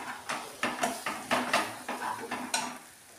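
A utensil scrapes and knocks rhythmically around a pan while chilli and turmeric powder are stirred into mutton, about a dozen close, fairly loud strokes with a faint sizzle between them and no talking.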